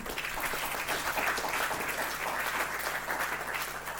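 Applause from a church congregation acclaiming the Lord at a book launch, a steady wash of clapping sustained evenly for several seconds with no voices over it.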